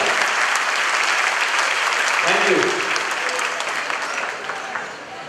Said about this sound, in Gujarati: બધા એક સાથે તાળી વગાડીને આપણે પોતાની જાતને વધાવીએ